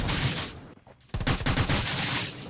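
Gunfire crackles in the Rules of Survival video game. A burst is followed by a short pause, then a dense, rapid volley of shots that keeps going to the end.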